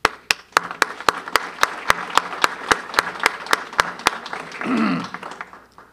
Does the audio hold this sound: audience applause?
yes